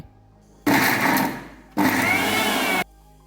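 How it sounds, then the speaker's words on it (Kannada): A mixer grinder coarsely grinds parboiled rice in two loud, steady whirring bursts of about a second each, with a short pause between them and near silence before and after. "ಮಿಕ್ಸಿಯಲ್ಲಿ ಇದನ್ನು ರುಬ್ಬಲು ತುಂಬ ಕಷ್ಟ, ಹಾಗಾಗಿ ನಾವು ಸ್ವಲ್ಪ ತರಿತರಿಯಾಗಿ ರುಬ್ಬಿ"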